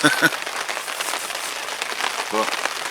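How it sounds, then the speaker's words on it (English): Rain falls steadily at a carp fishery, a continuous hiss of drops on surfaces that stays even throughout, with brief voices at the start and near the end. "maybe this spot of rain might stir the fish up and get them feeding"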